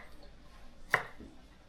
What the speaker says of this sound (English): So now basically we are just slicing them